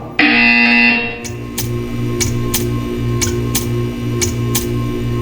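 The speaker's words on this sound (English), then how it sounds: "You will hear a buzzer. When you hear the buzzer, stare at the art." A buzzer sounds in the video game Portal 2: a loud sustained electronic tone lasting about a second, followed by a series of sharp, evenly spaced clicking pulses, with no talking.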